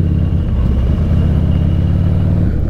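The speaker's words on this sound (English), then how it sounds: "you can really hear like the mechanics of this bike" A quiet motorcycle riding along, a steady low mechanical hum and engine drone with a faint whine on top, close and continuous without pauses.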